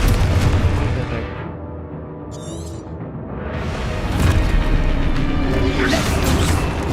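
A Confringo explosion spell in Hogwarts Legacy on PS5 lets out loud, booming blasts with rumbling low-end swells across the clip, and no speech is heard.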